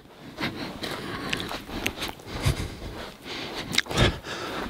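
Footsteps crunch on crushed rock along the floor of Closed Canyon in Big Bend, a steady walking rhythm of gritty steps close by with no talking.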